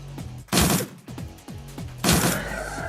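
Machine gun fire in the video game Shadowrun Returns: two loud bursts of automatic fire over a rhythmic, pulsing game soundtrack, with no talking.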